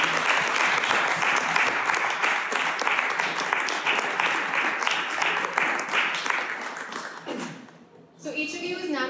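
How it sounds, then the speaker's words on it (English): An audience applauds honorees at an after-work panel event, sustained and fairly dense clapping that tapers off near the end before a voice begins speaking. "Can we give a round of applause?"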